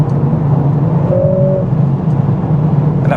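A 2021 Mercedes CLA45s AMG drives under acceleration, heard from inside the cabin as a loud, steady low engine drone with a brief tonal whine partway through. No speech is heard.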